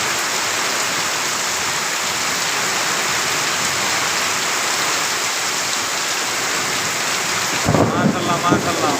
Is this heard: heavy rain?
yes